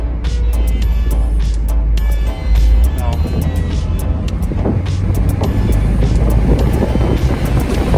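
A Fiat 124 Spider with its top down drives while its engine accelerates, a loud low drone with wind rush that swells and falls throughout.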